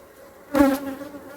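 Honey bees buzz at Hive #1 in a beeyard, a faint hum swelling into one close, louder buzzing pass before settling back to a low drone.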